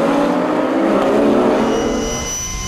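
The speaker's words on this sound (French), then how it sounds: "Le peloton est en formation serrée dans ses premières minutes de course." Race cars in the Roscar series racing at the Paul Ricard circuit: a loud, close engine roar from a tight pack that swells and then fades slightly as the cars pass, with no speech.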